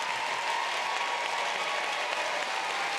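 A debate audience breaks into steady applause, a dense even clapping that holds at a constant level throughout.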